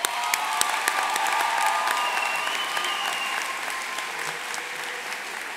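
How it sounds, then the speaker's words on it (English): Graduates and guests at a spring 2023 Florida Atlantic University commencement applaud family and friends, giving steady, fairly distant clapping with occasional cheers across a large hall. "Graduates, please join me in a round of applause for your family and friends."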